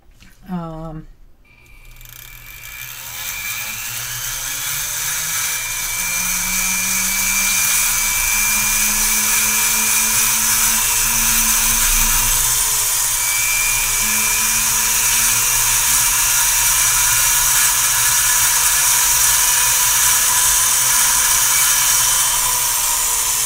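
A Dremel rotary tool grinds Phoenix stones with a steady high-pitched whine that spins up at the start and then holds loud and continuous, with small shifts in pitch as it bites into the stone, close by, and voices talk at times.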